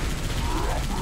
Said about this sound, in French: Oh, ils utilisent une tourelle.